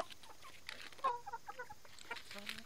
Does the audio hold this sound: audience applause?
no